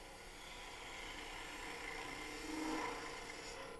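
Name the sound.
turning tool cutting a wooden sphere on a lathe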